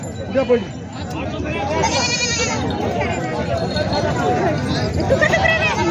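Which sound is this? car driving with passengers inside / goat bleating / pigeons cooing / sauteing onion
goat bleating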